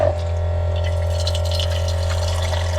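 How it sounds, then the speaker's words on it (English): Water running steadily from a portable rechargeable faucet at a campsite, a continuous close splashing stream over a low pump hum. "Faucet, we'll figure out where to put that, but just to test it out."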